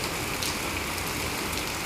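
Steady, dense rain falling on surfaces in Hauj Gandhar village, Fazilka, Punjab, a constant hiss with scattered drops, uninterrupted and moderately loud.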